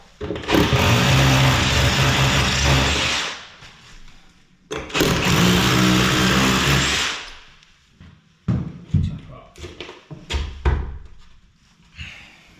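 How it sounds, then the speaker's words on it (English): Two long bursts of loud, high-pitched power drilling into a dot-and-dab wall for a radiator fixing, each a few seconds, followed by scattered knocks and handling clatter. "Just drill that."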